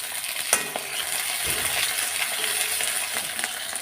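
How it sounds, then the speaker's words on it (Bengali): Onions and green chillies frying in a pan, stirred now and then: a steady close sizzle with occasional sharp scraping and clinking of the spatula against the pan, and no talking. "কতক্ষণ একটু নেড়ে দিই"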